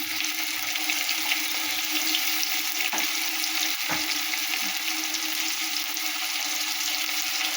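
Onion frying in a pan for a fish curry gives a dense, constant sizzle, with a couple of faint utensil taps and no voices.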